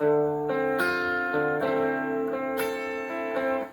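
An electric guitar plays a riff, a clean sequence of sustained chord-like notes changing roughly every second, alone and fairly loud, fading at the end.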